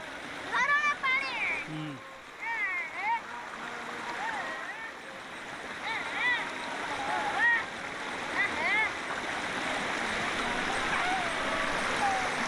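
Waterfall at Panchalingeswar, Balasore, Odisha, a steady rushing wash of falling water that runs continuously throughout, with people talking over it and voices coming and going.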